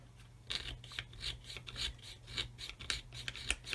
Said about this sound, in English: I'm always using it like a scriber now, and I'm just going to cut through the floor